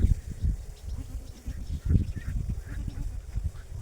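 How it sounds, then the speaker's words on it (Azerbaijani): Red and black goats scuffle with repeated thudding bumps and low bleats, close and uneven, under outdoor background noise. "İndi də qırmızı keçi ilə qara keçi dalaşır."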